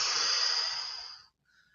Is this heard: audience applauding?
no